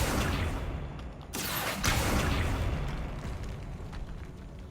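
A Confringo blasting spell detonates in a Hogwarts Legacy catacomb, a sudden loud broadband burst followed by a rumbling roar that slowly settles over several seconds amid ambient noise.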